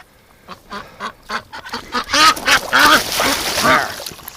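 Ducks quack and honk loudly and close by in a winter pen, starting as sparse calls and building into a dense, overlapping chorus of several birds.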